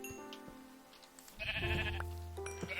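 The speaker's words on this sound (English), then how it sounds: "Why is there so many sheep spawning here today?" Sheep bleating in the Minecraft video game, a couple of synthetic baas rising over quiet background game sounds, with the louder bleat coming midway and holding to the end.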